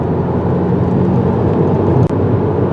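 Inside a 2024 Subaru WRX TR sports sedan on a winding road, a continuous broad engine and road roar holds steady, with one brief dropout near the end.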